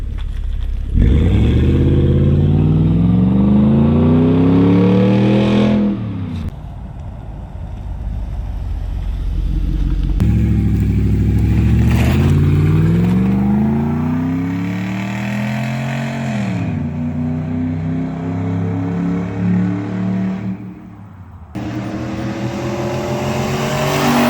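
A Ford F-150 with a Coyote V8 and a muffler-delete exhaust revs hard several times, each pull rising in pitch before dropping back, loud and close with brief idle gaps between the blasts.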